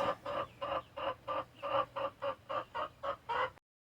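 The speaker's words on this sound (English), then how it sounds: "these are our broody hens" Broody hens clucking inside a hen house, a close, steady run of about a dozen evenly spaced clucks that continues without pause.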